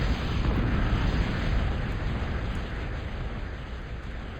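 Big Bertha artillery fire in a multiplayer strategy game match, a dense, loud, continuous rumbling roar of explosions with no clear breaks.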